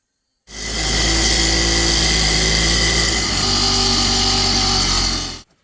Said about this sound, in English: get a grinder, cut them pedals off of there